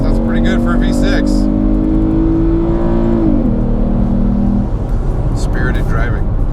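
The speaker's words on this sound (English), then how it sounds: "Sounds pretty good for a V6." A 2013 Chevrolet Camaro 1LT RS V6 automatic engine drones and revs under acceleration, its pitch holding high then dropping at a gear change, heard from inside the car.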